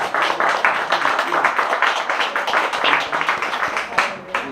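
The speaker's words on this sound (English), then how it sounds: "Round of applause for Jess" A small audience at a heritage event at The Boothouse claps for a speaker, producing a crisp, close burst of individual handclaps with a lively rhythm that holds steady before tapering off.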